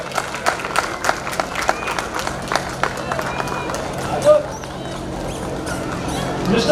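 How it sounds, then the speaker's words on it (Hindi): Crowd clapping for a contestant named at a Dr. Ambedkar Jayanti celebration, rapid uneven claps over a steady background hum with an announcer's voice talking over the applause. "जोरदार तालियां बजाई जाए मिस्टर राजेंद्र के लिए"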